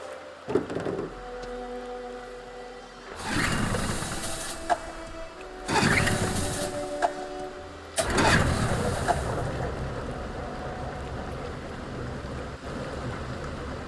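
A boat engine in Detroit: Become Human cranks in three rough, rising bursts before catching and settling into a steady running rumble over water ambience.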